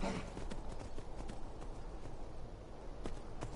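Horse hooves clip-clop in the Skyrim video game, a steady close walking rhythm of hoof falls continuing throughout, with no talking over it.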